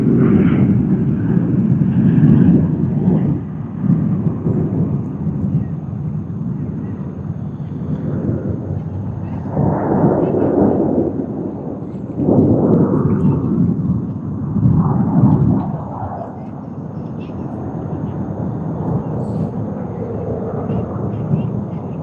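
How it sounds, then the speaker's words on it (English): A Jetstar jet aircraft on the runway at Sydney Airport in the early morning, a broad low roar that swells and eases in several surges, sustained and fairly loud throughout. "we are spotting another Jetstar flight after a long time on this runway"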